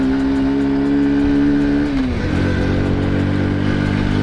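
A Honda Cub 90 motorcycle revs hard in second gear, its engine note climbing steadily and then dropping sharply as the throttle eases, loud and close with no talking.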